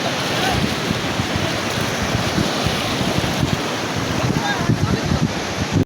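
Continuous surf crashing at Cox's Bazar beach, a loud, close wash of breaking sea waves with wind rumbling on the microphone, ending abruptly.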